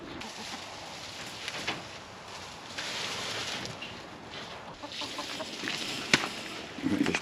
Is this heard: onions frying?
no